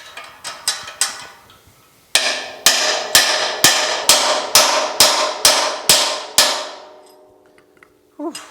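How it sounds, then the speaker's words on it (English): A steady series of sharp, ringing hammer blows on the sheet-metal chassis of a GTO, about a dozen evenly spaced strikes, close and loud, ending with a faint clank. "I'm not giving up hammering it out"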